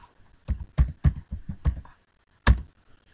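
Several sharp keystrokes on a computer keyboard as a network configuration command is entered, a quick burst of about seven taps followed by a pause and one final louder key press, close and clear with no talking.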